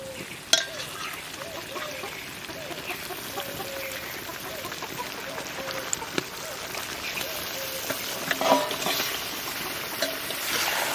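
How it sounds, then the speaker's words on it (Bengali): Fish frying in spiced masala in a home kitchen pan gives a steady, moderate sizzle throughout, with occasional soft scrapes and a stray clucking chicken nearby. "স্বাদ মতো লবণ দিয়ে দেবো আমি মাছ দিয়ে আর একটু কষাবো"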